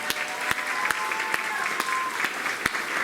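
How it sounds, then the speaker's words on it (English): An audience at a school board meeting claps for an elementary school choir, a steady, moderately loud patter of many hands with occasional sharper individual claps punctuating the sustained applause. "Let's give them a big round of applause."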